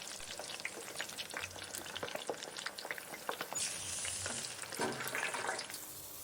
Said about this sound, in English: Then he deep fries them until they are golden and crispy.